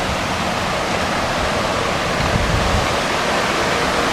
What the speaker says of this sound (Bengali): এবং এখানে প্রচণ্ড ফোর্সে পানিটা যাচ্ছে